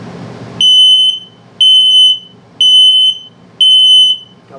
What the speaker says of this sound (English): and then LP or low battery alarm.